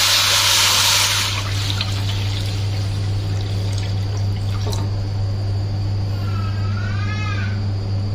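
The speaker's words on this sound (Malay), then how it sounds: "Okay, kita masukkan air." Water poured into a pot to boil cleaned chicken feet: a loud, close rushing pour in the first second, then a quieter trickle over a steady low hum, with a brief warbling cry near the end.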